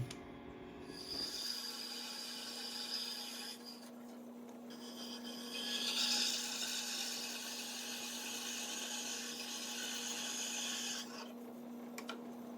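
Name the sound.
cutting a small piece for an engine ignition mount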